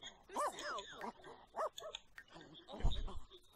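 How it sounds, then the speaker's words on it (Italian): Puppies in The Sims video game give a few short high yips and whimpers in quick bursts, followed by a low thump, with game sounds in the background. "Cuccioli."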